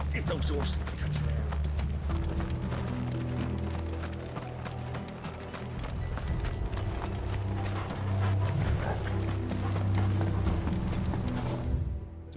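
Horses gallop with steady clip-clop hoofbeats in the video game Final Fantasy XVI, close and loud over a low rumbling score, with spoken voices running underneath throughout.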